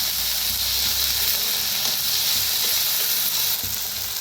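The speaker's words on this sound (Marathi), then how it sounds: "छान भाजून घ्यायचं कांद्याला" Onions roast in a hot pan for masoor dal, giving a continuous close sizzle and hiss with faint stirring scrapes throughout.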